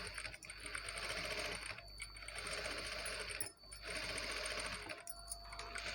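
A sewing machine stitches a work blouse with a fast, continuous mechanical whir, pausing briefly a few times as the fabric is turned at corners.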